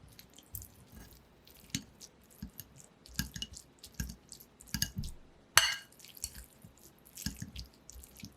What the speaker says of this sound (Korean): 부드럽게 익은 당근은 으깨줄게요